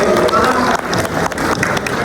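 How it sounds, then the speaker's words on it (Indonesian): An audience at a nursing and allied professional ECG championship grand final gives a short, loud round of clapping and cheering, with voices mixed into the crowd noise. "Berikan tepuk tangan yuk."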